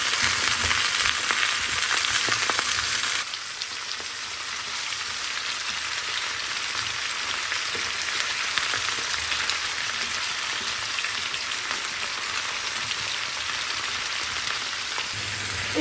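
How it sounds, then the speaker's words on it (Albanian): Potatoes frying in oil with onions and red peppers, a dense steady sizzle that grows softer and calmer partway through, with no talking. "E kemi ka verdis patatat me qepë dhe specat për një 10 minuta në vaj"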